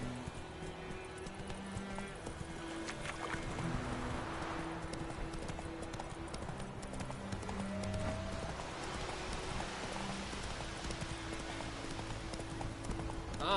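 In the Witcher 3 video game, the horse Roach's hooves clip-clop in a steady walking rhythm under faint background ambience and game music, quiet and continuous throughout.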